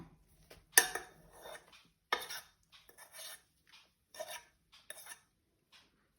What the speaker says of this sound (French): Vous finissez de mélanger les blancs